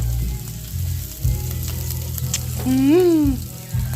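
Eel stir-fried with spices, kaffir lime leaves, galangal, lemongrass and curry paste in a pan, sizzling and crackling close up while a utensil stirs, with a brief tonal whine rising briefly over the frying.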